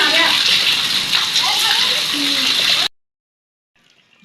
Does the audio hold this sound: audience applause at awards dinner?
no